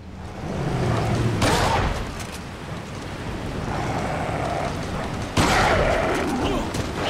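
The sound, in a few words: shotgun shots in video game Resident Evil 4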